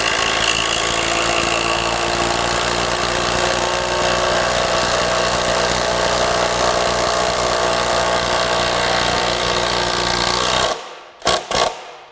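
A Kobalt 24V brushless tool drives a lag screw, giving a loud, steady, rapid mechanical hammering that runs continuously for about ten seconds, then stops abruptly with a few short bursts at the end.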